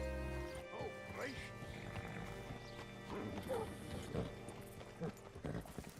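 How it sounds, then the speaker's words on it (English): Horse hooves clip-clop in the video game Red Dead Redemption 2 as a horse is brought up to a hitching spot, with irregular hoof falls under background music and ambient game sound. "Hitch your horse up here"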